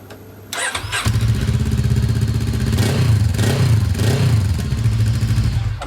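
A Voge DS 500 motorcycle engine with a stainless steel exhaust starts up and settles into a steady, loud, close idle with a low throbbing rumble and a few brief revs.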